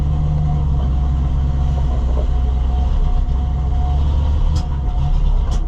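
An old farm truck engine idles and rumbles during a soybean harvest, running rough with a steady low drone and slight sputtering, close and alone without talk.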